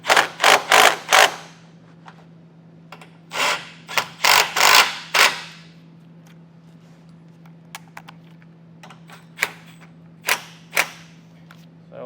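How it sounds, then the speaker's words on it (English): Ratchet wrench tightening nuts on a base plate kit under a 2017 Ford Explorer, bursts of quick loud clicking in rapid groups, then sparser single clicks and knocks over a low steady hum. "come back, and we'll tighten everything down."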